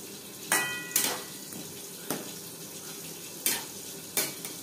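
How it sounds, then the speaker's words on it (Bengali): A spoon scrapes and taps through spices and potatoes in a pan for an egg and potato curry, making about five short, distinct strokes over a faint, quiet background. "ও মশলা আলুর সাথে বেশ ভালো করে মিক্স করে দেবো"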